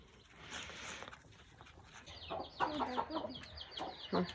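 A mother hen clucks repeatedly in short, nervous bursts, fairly close, with chick-like peeps and light rustling in between.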